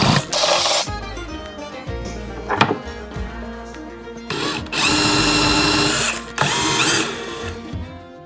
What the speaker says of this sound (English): Now I'm gonna drill into this hole just a little bit with a larger drill bit